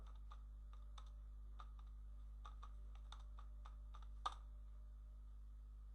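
Typing a search on a computer keyboard: irregular light key clicks tapping in quick bursts over a steady low hum, ending with one sharper keystroke.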